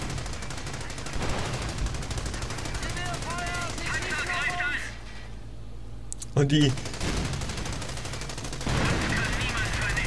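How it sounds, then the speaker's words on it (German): Rapid bursts of gunfire in Company of Heroes crackle through the clip alongside steady game noise, shots striking a tank, with a sharp loud blast near the middle and a voice speaking at times. "die ganzen Schüsse prallen natürlich von meinem Panzer ab"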